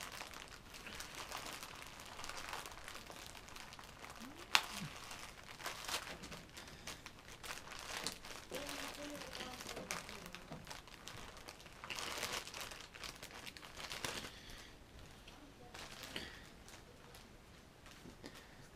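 Packaging from a face hugger doll, an Alien collectible, is unwrapped up close with faint crinkling and rustling, a few sharp crunches and tearing sounds in a quiet room.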